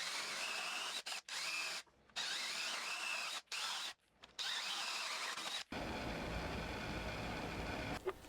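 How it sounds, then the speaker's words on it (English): A power drill fitted with a spade bit bores leg holes in walnut for a live-edge stool. The drill whines in several bursts with brief pauses between them, then gives way to a rougher, grinding noise near the end. "I drilled a pilot hole and then switched to the spade bit to drill the final hole."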